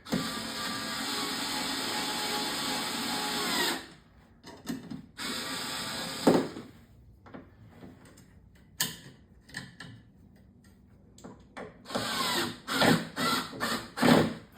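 Small screwdriver driving screws into a circuit board of a Spy Hunter sit-down arcade machine being restored, a steady close grinding and ratcheting at first, then scattered clicks and scrapes, ending in quick rapid ticks.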